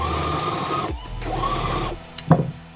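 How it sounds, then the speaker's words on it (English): Domestic sewing machine stitching down one side of a thrifted hoodie, two quick close-up bursts of rapid mechanical chatter separated by a short pause, then a brief clunk as it stops. "So what I want to do is sew one side down."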